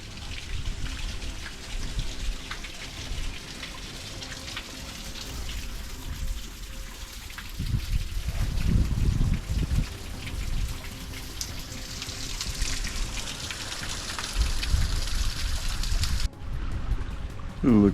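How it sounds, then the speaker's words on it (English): A waterfall in a canyon on a mountain hiking trail gives a steady broadband rush of falling water that swells louder midway, with some talk over it. "First waterfall of the day."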